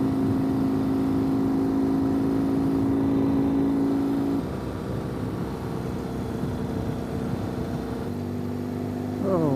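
A Ural motorcycle engine labours steadily up a big hill, holding a loud constant drone that dips and shifts in pitch midway, then a rising rev near the end, with no talk over it.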